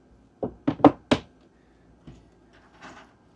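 A storage door inside a family sailboat cabin shuts with a quick cluster of four sharp wooden knocks and thumps, followed by a couple of fainter taps in a quiet interior.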